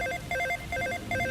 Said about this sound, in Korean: 갑자기 벨소리가 울려 퍼졌습니다.